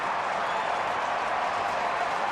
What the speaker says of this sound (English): Fans trying to cheer Swarzak on.